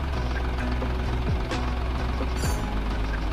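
A serviced Eicher 557 tractor engine idles close by with a steady low rumble, a faint regular knock riding over it.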